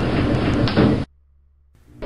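Elevator doors sliding shut with a loud, close rumbling glide that ends abruptly in a thud, followed by near silence and a faint hum.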